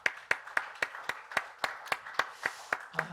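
A church congregation at a Korean Sunday service claps in thanks, about a dozen crisp, evenly timed claps in a steady beat, with nothing else heard.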